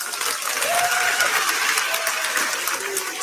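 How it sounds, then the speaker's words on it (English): Men in a comedy radio-show audience clap in a lively, continuous patter of many hands, moderately loud and close, with faint voices underneath. "let me hear the men clap"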